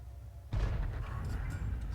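A tank cannon firing in World of Tanks: after a quiet moment, one deep heavy boom strikes, then a long rumbling roar and debris-like crackle carry on without a break.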